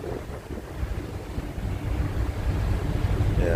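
Sea waves wash around a boat in the dark before dawn, a steady low rush of water with wind buffeting the microphone, growing slightly louder toward the end.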